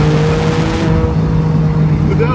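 Maserati MC20 six-cylinder engine droning loudly at close range, the tone shifting and dropping partway through as on a downshift, with a voice talking faintly underneath.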